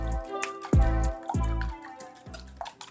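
Milk poured into a bowl while preparing baked chicken nuggets, heard as a series of close liquid glugs and drips in uneven bursts, with no talking.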